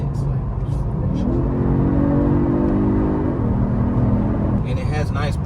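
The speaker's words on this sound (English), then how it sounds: "It kind of put me in the mind of like a Maserati Ghibli in the way that it sounds, because it's like just a ferocious ass V6" A Genesis G70 V6 engine revs and pulls hard under acceleration, a loud, close drone rising in pitch and then levelling off, with a voice talking over it near the end.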